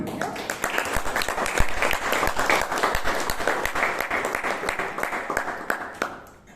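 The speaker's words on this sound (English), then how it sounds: "You made me feel less nervous listening to all of you clap" A crowd at a Toastmasters club meeting in Bangalore claps again, a full, even round of many hands sustained for several seconds before trailing off abruptly.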